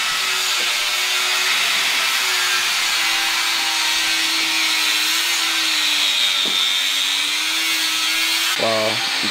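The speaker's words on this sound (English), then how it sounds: "Jason is over there cutting and grinding on things" A power tool cuts and grinds in a garage with a steady, loud broadband whine and a wavering motor hum throughout, ending with a brief change in pitch.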